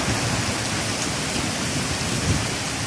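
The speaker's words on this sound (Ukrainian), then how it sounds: "Дощ, звісно, йде" Heavy rain falls in a village during a strong storm with gusting wind, forming a dense, loud, unbroken hiss with faint low rumbling and no talk.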